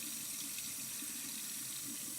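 Tap water runs steadily into a sink, a constant bright splashing hiss at moderate level, unbroken and alone.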